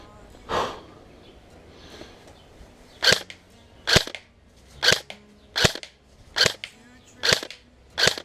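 A KWA Ronin PDW airsoft gun fires 0.28 gram BBs at about 30 feet, giving seven sharp, evenly spaced single shots after one earlier pop, loud and close with quiet gaps between.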